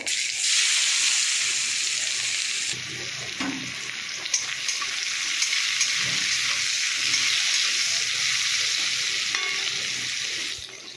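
Tomato and onion frying in a pan for fish curry, a strong continuous sizzle that jumps louder as more goes in, with scraping stirs and clinks throughout, close up.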